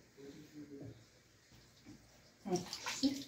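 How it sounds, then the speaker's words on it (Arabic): Cold water is poured onto vermicelli being prepared for Moroccan seffa, a short splashy pour coming in near the end after someone talks quietly. "وكنبقاو نزيدو فيها شي شويه ديال الماء بارد"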